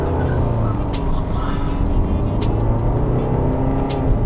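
A 2013 Hyundai Santa Fe CRDi diesel SUV accelerates hard from a standstill on a road, its engine roaring steadily and loudly throughout with a continuous broadband rumble.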